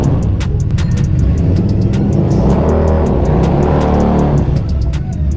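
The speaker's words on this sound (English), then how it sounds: "Little rolling burnout." A Harley V-Rod Muscle rolls off-road on a dirt trail in a loud, continuous burnout, its engine roaring close up while the rear tire spins, with rapid repeated sharp crackles and spatters of dirt over the rumble and no talk.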